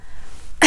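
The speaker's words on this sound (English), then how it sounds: "To cough." A single short throat-clearing cough sounds near and loud right at the end, after a near-silent stretch, with no talking.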